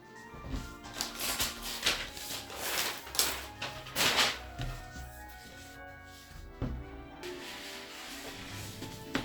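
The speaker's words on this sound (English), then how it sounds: "So let's unwrap it and see what's inside." Paper gift wrap on an advent calendar present being torn and unwrapped, with crinkly rustling and several sharp ripping bursts close up, then quieter handling toward the end.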